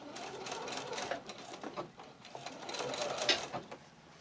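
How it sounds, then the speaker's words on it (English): Sewing machine top stitching along the exposed zipper of a small zippered fabric tote, a steady close whirring run of stitches that pauses and restarts, with faint speech in the background. "So let's see if we can do a little top stitching."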